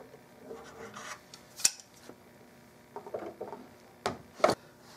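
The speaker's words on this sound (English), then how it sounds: "Take the clamps off of them." Clamps come off glued drawer parts of an antique nightstand being restored: scattered metallic clicks and scrapes with quiet gaps, a few sharper knocks near the end.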